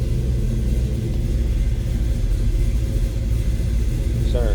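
A 1970 Dodge Challenger R/T engine gives off a deep, steady, loud rumble up close, holding a fairly even level throughout with no clear surge in revs.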